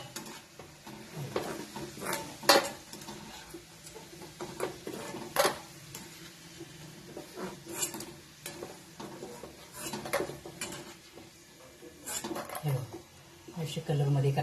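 Rice flour kurkure frying in hot oil, a continuous sizzle broken by sharp clinks and stirring scrapes of a utensil against the pan, with talk over it.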